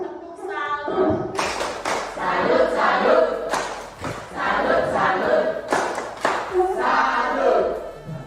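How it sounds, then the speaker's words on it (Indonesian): A standing group of schoolchildren performs a rhythmic clapping salute, patterned bursts of claps and taps mixed with shouted chanting, loud and close. "Tepuk salut."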